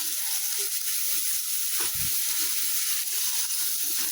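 Onion and garlic paste fries in hot oil for biryani, a steady, loud, close sizzle with a brief stirring scrape partway through.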